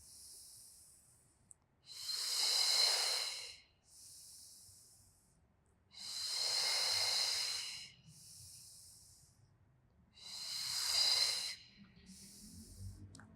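Three slow, deep breaths with soft airy hiss, each long exhale-like rush separated by quieter inhalations, close and alone during a yoga stretching session.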